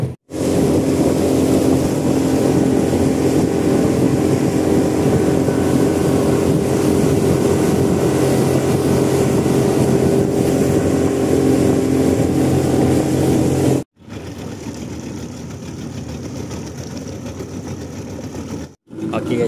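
A motorboat engine runs at Pulau Perhentian, with a loud, steady droning roar that continues unbroken, briefly drops out, then returns at a lower level.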